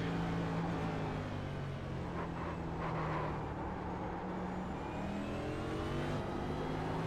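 Engine noise from a race car in a racing video game, slowing through a heavy braking zone into the slowest corner of the track, a steady loud engine drone with shifting pitch throughout and no talk.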